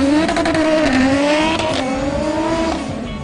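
An Audi RS3 launches at a drag race at Midvaal Raceway, its engine note climbing through rising revs with a shift or two, loud and fairly close, with no voices over it.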